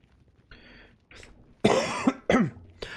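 A few harsh, raspy coughs burst out close by, separated by short pauses, with a quieter throaty sound before them.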